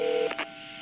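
A telephone keypad tone sounds once as a steady beep, followed by two quick softer clicks or tones, close and clear, with no talk.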